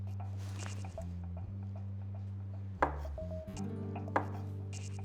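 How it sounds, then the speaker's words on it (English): A knife slices zucchini on a cutting board in a few separate, sparse knocks, heard over a constant low electrical hum in a kitchen. "Let's cut them in slices."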